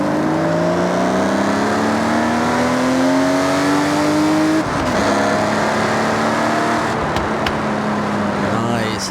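A BMW M car's 3.5-litre naturally aspirated straight-six, the engine shared with the M1, revs loudly and climbs in pitch in the racing game Forza Horizon 6, drops briefly midway, then keeps droning close and steady.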